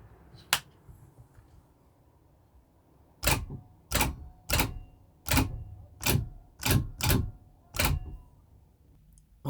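Lone Star winch jogged in small steps by tapping its two-way switch, giving eight short, sharp bursts spaced evenly about half a second apart, close and crisp against near silence, after one isolated click.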